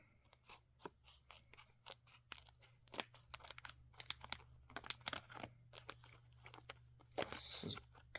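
Scissors snipping and crunching through thick Copenhagen snuff packaging, with a quick series of close, crisp cuts and crinkles, ending in a louder tearing burst.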